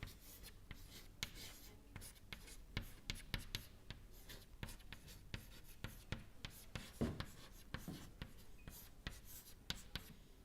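Chalk or marker scratches and taps across a board during a lecture, quick irregular strokes close by and fairly quiet, with no talk over them.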